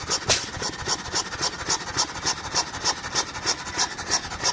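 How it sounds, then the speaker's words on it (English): A Ruston Hornsby 8PB stationary engine runs with a rapid, even chuffing beat, each firing a raspy, scratchy pulse, close and loud after a sharp opening burst. "So the engine does fire up"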